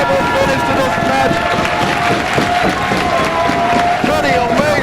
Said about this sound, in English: This crowd is going berserk. they are going bananas.